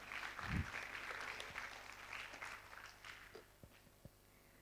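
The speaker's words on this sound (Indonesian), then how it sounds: "Mungkin sekali lagi tepuk tangannya untuk SBK Muni" Audience clapping after a performance at a book discussion event, moderately dense at first, then thinning to a few scattered claps and fading out, heard faintly from a distance.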